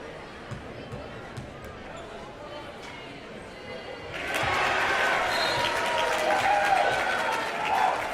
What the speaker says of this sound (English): crowd getting excited as Shepard gets a point